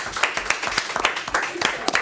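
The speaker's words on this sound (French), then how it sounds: "On l'applaudit quand même, même si c'est une mauvaise réponse." Studio audience applauding a contestant on a French quiz show, a dense run of close, steady hand claps filling the whole stretch with no voices heard.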